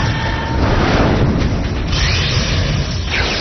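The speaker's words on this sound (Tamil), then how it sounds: "Fire blast!" Cartoon fire blast attack in an animated cat series, a loud continuous burst of roaring, rumbling explosion noise with mechanical crackle, dense and sustained for several seconds without speech.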